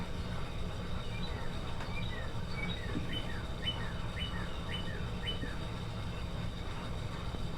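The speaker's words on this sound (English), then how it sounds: "Love those birds. Love listening to those birds." Small birds, including cardinals, chirp in quick, thin repeated notes at a distance, over a steady low outdoor rumble.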